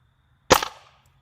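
A .177 pellet from a Ruger Air Hawk Elite II air rifle strikes a backyard target with a single sharp, loud crack that decays quickly into silence.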